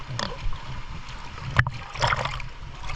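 A boat moving on open water off Banol Island, Coron, Palawan, with steady washing and splashing of waves and a sharp knock partway through, heard up close.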